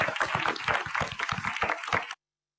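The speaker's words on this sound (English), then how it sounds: "I want to first give a round of applause to our support staff" Audience applause for the support staff and caterers at an evening healthcare panel event, a dense steady wash of many hands clapping close by for about two seconds before cutting off abruptly.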